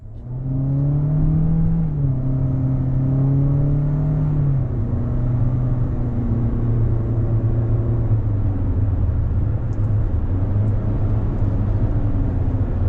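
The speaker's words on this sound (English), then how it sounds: "we're on the road in this 26 Corolla Cross LE all-wheel drive" A 2026 Toyota Corolla Cross LE all-wheel drive cruising on the road, heard as a loud, continuous close engine drone and road rumble whose pitch sags and rises gently, with no voices.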